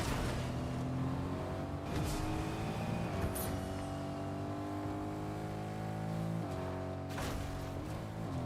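A car engine in a video game revs steadily at close range, with rising and falling pitch as it accelerates and shifts through gears over continuous driving noise.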